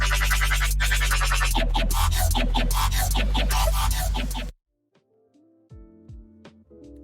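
Synth chords from a Riot pad layered with a Serum supersaw patch in a colour bass production: dense, loud, shimmering chords with rhythmic movement for about four and a half seconds, then sudden silence followed by a few sparse, quieter tones.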